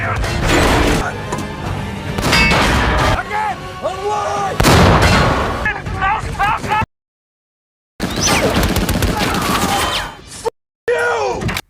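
Heavy gunfire and booming tank cannon shots from a war film battle, loud bursts in rapid clusters with short silent gaps, mixed with dramatic score and a narrating voice.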